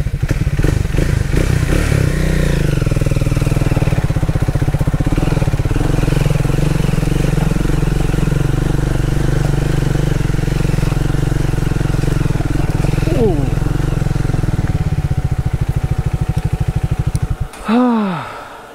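Triumph Speed 400 motorcycle idles with a steady, close engine drone and the radiator fan whirring loudly on an off-road ride in Meghalaya, running continuously before cutting off abruptly near the end.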